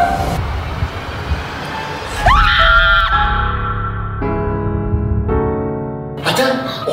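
A woman screams loudly during a murder-mystery game in a villa, a long rising then falling shriek followed by shorter sustained wails, with a rough noisy burst at the start and end.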